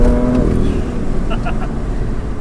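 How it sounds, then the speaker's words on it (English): A modern car's engine drones loudly and close, its pitch dropping as it shifts gear, then settling into a rougher, steady roar from inside the cabin. "that gear change, man, I haven't been out in a while"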